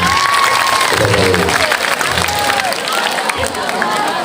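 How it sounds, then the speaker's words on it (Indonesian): A group of children in a classroom session claps and cheers for their classmates, a loud, dense burst of clapping mixed with shouts and lively chatter, with an adult voice speaking over the noise. "Oke, tepuk tangan untuk kawan-kawan semua."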